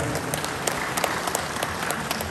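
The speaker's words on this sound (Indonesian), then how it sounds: "Tepuk tangan buat beliau." An audience applauds a guest speaker being introduced at a university-related event, a dense, even burst of many hands clapping continuously throughout, fairly close and steady.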